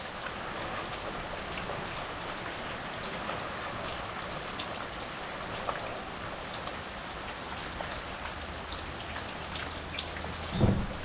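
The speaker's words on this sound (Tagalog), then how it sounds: "Heavy rain!" Heavy rain falling steadily in an outdoor tropical downpour, a dense constant patter and hiss of drops on surfaces, moderately loud, with a faint thump near the end and no voices.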